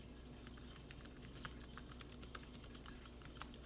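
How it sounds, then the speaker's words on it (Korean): Quiet, rapid clicking of keys on a computer keyboard, irregular bursts of typing heard close by with no voices. "응용이라고 타이핑을 하시고"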